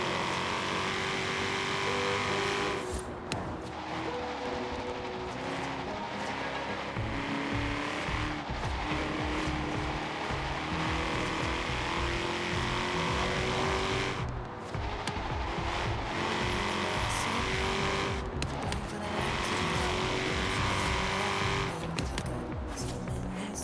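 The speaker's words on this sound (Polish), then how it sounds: "posłuchajcie troszeczkę dźwięków tego Mustanga" A Ford Mustang in Forza Horizon 3 revs and drives hard, engine note rising and falling through gear changes with tire squeals and skids, loud and close, with no talk over it.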